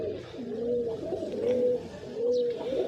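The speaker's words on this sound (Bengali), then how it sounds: "দেখেন কত সুন্দর কবুতর" Pigeons at an open rooftop loft cooing in repeated soft rising-and-falling phrases, close and clear, a few overlapping calls with no talk.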